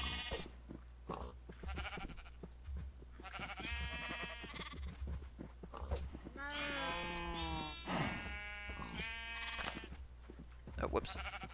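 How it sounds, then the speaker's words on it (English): Blocky sheep in Minecraft bleat repeatedly in short wavering calls, several overlapping at close range over a steady game background with brief speech between them. "so I have two gray sheep"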